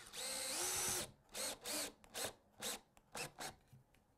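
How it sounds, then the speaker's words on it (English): A power drill drives a screw into soft pine without a pre-drilled hole: one long whirring burst, then a series of short, rhythmic pulses as the screw is seated, close and clear with no talking. "I'm just going to go ahead and put this screw in"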